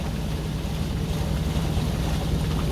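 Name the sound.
strong wind at the beach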